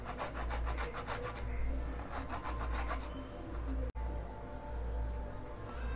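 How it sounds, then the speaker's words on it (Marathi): Fresh coconut grated by hand in a home kitchen to garnish poha, with quick rhythmic rasping strokes in two bursts, then softer scraping and a low steady hum underneath. "पोह्यांवर गार्निश करण्यासाठी खोबरं हवं आहे, तर ते खोबरं किसून घेते आहे."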